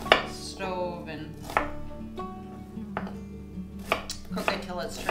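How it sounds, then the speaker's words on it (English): Vegetables roughly chopped on a board for homemade ketchup, a knife striking in irregular knocks with short bursts and pauses, close and fairly quiet, no speech. "So these can be roughly chopped because we're going to end up blending it."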